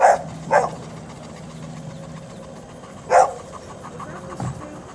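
A dog in a homestead setting lets out a few sharp barks: two quick ones together, a longer gap, then another single bark, over a low background rumble.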